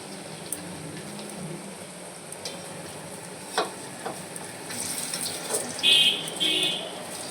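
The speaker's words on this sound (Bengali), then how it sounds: "শুধু দেখুন একে একে এগুলোকে ভাজছি আমি এখন।" Sweet potato pieces fry in a pan with a steady, moderate sizzle. A few utensil clinks and stirring sounds rise near the end, and there is no talking.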